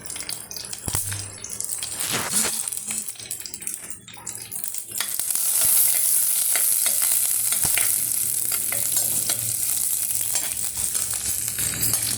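Mustard seeds crackle and spit in hot oil in a pan, a dense, close sizzle that grows louder halfway through and keeps up a steady fizzing crackle, with no talking.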